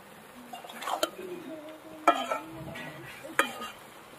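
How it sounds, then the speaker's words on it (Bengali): A spatula stirring cabbage cooked with pakal fish in a pan, soft scraping and gentle sizzling punctuated by three sharp knocks of the utensil against the pan. "আস্তে আস্তে করে মিশিয়ে নিতে হবে"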